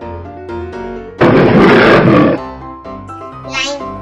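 A lion's roar in an animated story about four cows and a lion, a loud, rough burst lasting about a second over background music.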